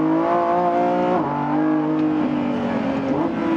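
The 1015 hp engine of a Lamborghini Revuelto supercar revs and accelerates in performance mode, its pitch climbing, dropping at a gear change, then rising again, loud and close with no talking.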